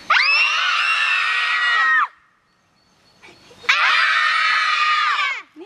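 A group of people scream as loudly as they can in two long, piercing sustained bursts, each about two seconds, separated by a brief near-silent gap.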